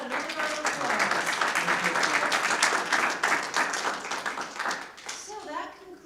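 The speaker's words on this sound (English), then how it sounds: "how about another round of applause?" A round of applause at a superintendent's student-of-the-month presentation, the audience clapping hard and dense for about five seconds before fading, with a voice speaking near the end.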